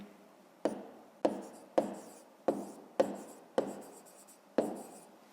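Pen or chalk strokes from handwriting during a fifth-grade maths lesson, seven short sharp scratches at a steady rhythm, close and fairly faint, with no talk.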